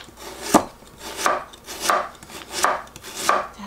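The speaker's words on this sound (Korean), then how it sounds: "그래도 야채들이 조금 살아있는 듯한 느낌을 주려면 조금 굵게 썰는 게 좋아요" A kitchen knife slicing vegetables into thick julienne strips for japchae, five firm evenly spaced cuts landing on a cutting board, close and clear with no talking.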